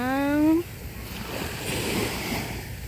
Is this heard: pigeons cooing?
no